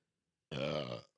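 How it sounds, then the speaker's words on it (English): A single close, loud human burp, a half-second guttural belch bursting out of silence and stopping abruptly. "Burp."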